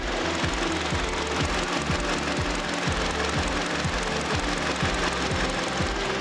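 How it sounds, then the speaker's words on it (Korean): A Hyundai YF Sonata's Theta II engine idles steadily nearby, a continuous rumble with a regular rapid ticking pulse and no voices. "자 마지막으로 엔진 소리 듣고"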